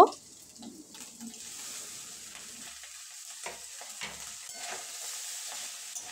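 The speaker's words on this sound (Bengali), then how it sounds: "সবগুলো ভালোভাবে মিক্স করে নেব।" Egg bhujia and boiled pasta are stirred together in a pan, making soft scraping and low sizzling with a few light utensil taps and no talk.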